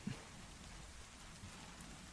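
Steady rain falls in an even, continuous hiss at low volume with no pauses or voices.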